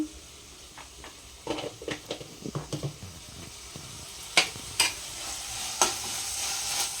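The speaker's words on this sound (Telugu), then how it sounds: "నాకు పసుపు వేసిన వెంటనే కలపాలనిపిస్తుందండి, మొత్తం కూర వాసన, పచ్చివాసన పోవడానికి" Flat bean curry is stirred in a pan right after turmeric goes in, with a run of scraping stirs and soft sizzling, followed by a few sharper clinks of the utensil against the pan, close and alone.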